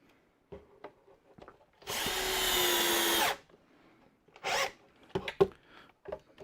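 A power drill drives screws into wooden drawers, whirring loudly for about a second and a half, then a shorter burst follows, with scattered clicks and handling knocks around it.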